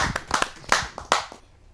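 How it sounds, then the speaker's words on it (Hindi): A few sharp hand claps ring out in an uneven burst, like a small audience applauding a poet being welcomed on stage at a Hindi kavi sammelan, fading to quiet at the end. "जा जोरदार तालियों"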